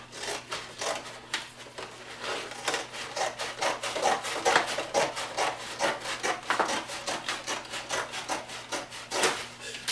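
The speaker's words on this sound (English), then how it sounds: "Take the piece with the flap showing and cut about 1 inch into the next panel." A blade cuts into a panel of a cardboard soda box with repeated quick rasping strokes, close and moderately loud, in an uneven rhythm with no speech.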